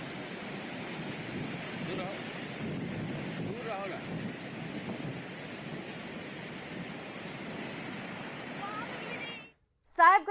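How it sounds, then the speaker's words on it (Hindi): Floodwater of the Gumani river flowing two to three feet deep over a road near Hariharā village, a steady broad rushing wash with wind buffeting, cutting out near the end. "इस रोड पर लगभग 2 से 3 फीट पानी बह रहा है"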